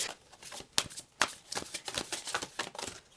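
Crisp papery riffling of large tarot cards being shuffled in quick bursts, with sharp slaps between flurries, close by and alone.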